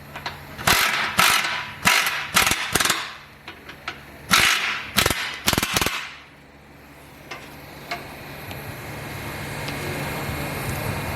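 A ratchet tightens the bolts of an Eibach front sway bar on a 10th-generation Honda Civic Si, rapid clicking bursts in quick repeated strokes, close and loud, then a quieter hum of room noise.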